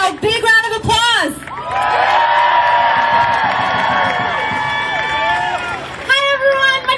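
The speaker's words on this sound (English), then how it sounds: "give her a big round of applause" A crowd at a Socialist Alternative rally erupts in sustained cheering and whooping, loud and steady for several seconds, with a voice speaking just before and after.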